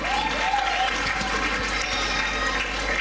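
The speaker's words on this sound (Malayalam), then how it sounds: "ആ മനോഹരമായ ആവിഷ്കാരത്തിന് വീണ്ടും ഒരു നല്ല കൈയടിയാവാം." Audience at an Onam celebration applauding a performance, a dense continuous wash of clapping that holds steady and fairly loud from start to finish.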